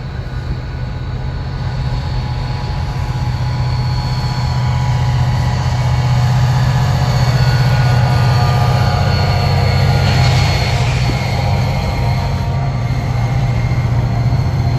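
A train rolling past on railroad tracks, heard as a loud, steady, close roar of wheels and rail with a constant low rumble and a brief squeal near the end.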